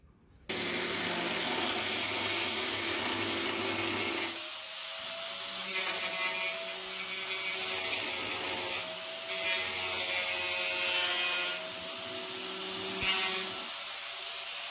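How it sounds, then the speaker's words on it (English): Steady, loud grinding of a drill biting through sheet metal, drilling out spot welds on a car door panel, running almost continuously with brief changes in pitch and pressure, close up, no talking. "Drilling out the spot welds right now so it could release this panel."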